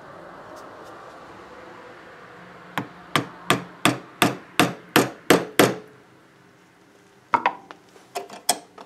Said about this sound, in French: présenter le manche et l'enchâsser sur la lame